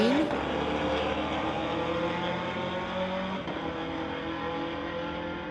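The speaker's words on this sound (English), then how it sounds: "Chase Cranmore in the 2017 Chevy Camaro going against Sean Mercer in his 2019 Chevy Camaro." A 2017 Chevy Camaro and a 2019 Chevy Camaro drag race, heard as a loud, sustained engine roar that holds steady and then eases slightly as the cars pull away.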